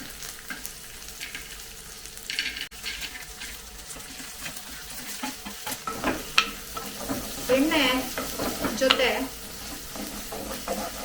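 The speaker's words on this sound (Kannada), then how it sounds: "ಈ ಶೇಂಗಾನ ನಾನು ಈಗ ಬೆಳ್ಳುಳ್ಳಿ ಹಾಕಿದ ನಂತರ ಶೇಂಗಾನು ಕೂಡ ಫ್ರೈ ಮಾಡ್ಲಿಕ್ಕೆ ಹಾಕ್ತೀನಿ" Peanuts frying with garlic in an oily pan, a continuous close sizzle broken by stirring and clinking of a spatula that grows busier toward the end.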